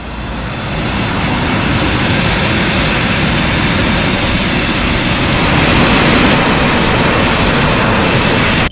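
A jetpack's loud, steady jet engine roar holds throughout, harsh and close, with no pauses or voices.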